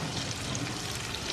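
Onions soften in a pan for a creamy paneer curry, giving a steady, low hiss and crackle of frying that continues evenly and fairly quietly for a moment with no voices.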